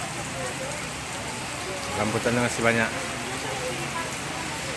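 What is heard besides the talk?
rain falling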